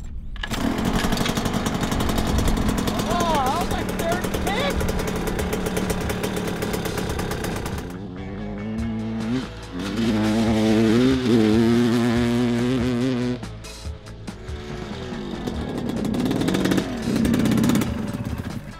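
Old two-stroke dirt bike engine warming up at a race pit, a loud buzzing idle with repeated throttle blips and revs rising and falling.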